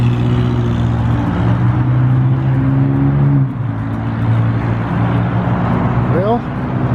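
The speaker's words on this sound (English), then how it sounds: "Well, you got a fancy car. Blown out motor." A car with a loud, blown-out motor passes close by, its rough engine droning steadily and then shifting pitch as it goes, with someone talking over it.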